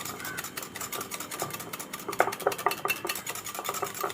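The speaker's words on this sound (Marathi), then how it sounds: "अजून 5 मिनिटं फेटून घेते।" Cream for bread cream rolls, tinted with red food colouring, is whisked in a bowl, giving a steady rapid clatter of the whisk against the sides, close and moderately loud with no voices.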